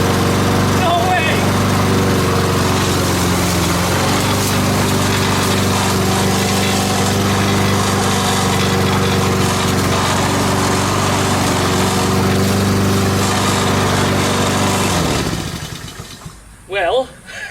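A repaired Honda lawn mower engine runs loud and steady at close range for about fifteen seconds, then cuts out and winds down.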